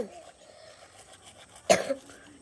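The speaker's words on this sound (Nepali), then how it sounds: "खोकी लाग्छ" A single sharp cough breaks through near the end, loud and close, after a stretch of quiet background.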